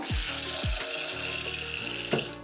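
Raisins are rinsed in a bowl under a running kitchen tap, a steady close rush of water with a few sharper splashes and clunks of the bowl near the end; nobody speaks.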